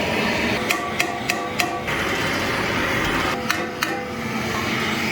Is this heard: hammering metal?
yes